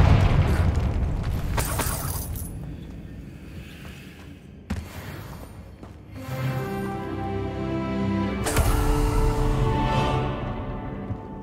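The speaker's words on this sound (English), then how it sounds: "Confringo." Confringo explosion spell in Hogwarts Legacy, several booming blasts with sharp onsets about two to three seconds apart, each trailing into rumble and ringing tones, with no talk.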